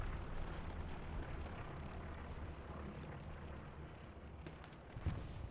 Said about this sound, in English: Fires a rocket.